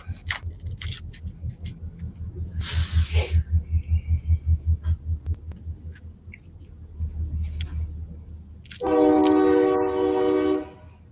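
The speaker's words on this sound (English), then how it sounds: "There's the train" A passing train rumbles with a rhythmic clatter of wheels over rail joints, then its horn blares loud and steady near the end, heard outdoors at a lakeside lounge with no talking over it.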